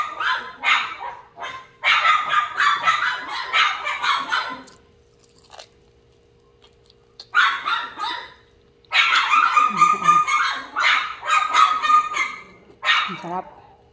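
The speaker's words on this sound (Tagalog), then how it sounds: "Yung ingay ng aso." A dog barks close by in repeated clustered bursts, separated by short quiet gaps, with some crunchy, chewing-like noise mixed in.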